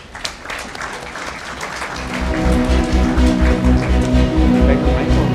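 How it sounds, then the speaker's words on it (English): An audience at a hotel-industry awards event applauds for a guest of honor, scattered claps at first swelling into sustained loud applause. "May we please have a round of applause?"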